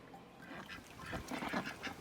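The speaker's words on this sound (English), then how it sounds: "These ducks are absolutely nuts." Faint ducks quack a few times in a short, low-level burst, the calls overlapping briefly against quiet background noise.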